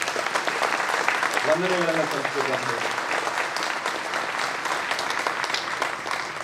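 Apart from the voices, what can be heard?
audience applause for the district officials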